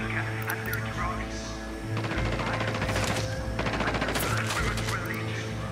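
Heavy automatic gunfire in a Bolivian combat setting in a video game, sustained rattling bursts close and loud over low rumbling, with short pauses between volleys.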